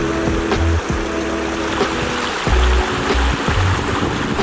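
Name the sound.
Roaring Brook Falls waterfall, Adirondacks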